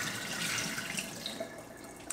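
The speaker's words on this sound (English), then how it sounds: "So we're gonna pour this water out." Water poured out of a pot into a kitchen sink while cooking Southern fried cabbage, a steady close splashing rush with faint trickles throughout.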